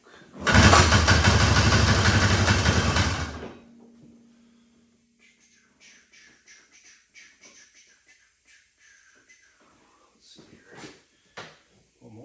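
A 1978 John Deere Liquifire snowmobile engine roars loudly and steadily for about three seconds, then cuts out, leaving faint clicks and handling noises.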